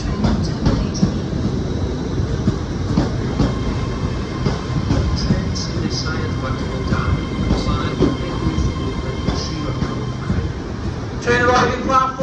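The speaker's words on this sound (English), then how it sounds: "The train now approaching platform 4 is the 1318 Great Western Railway service on London Paddington." Great Western Railway train pulling into platform 4 at Cardiff Central station, a steady rumble and rail clatter filling the platform, with a brief higher squeal near the end and station announcements and voices over it.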